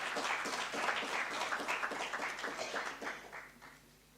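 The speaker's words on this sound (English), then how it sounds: "Let's clap our hands for the citizens" A seminar audience claps together at a steady pace, strong at first and then dwindling and fading out.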